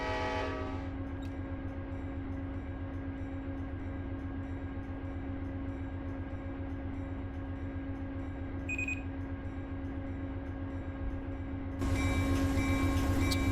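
A train in the Run8 railroad simulator rumbles and hums steadily with a low engine drone and tonal whine, a brief horn-like tone cutting in midway, then a louder burst of engine noise near the end.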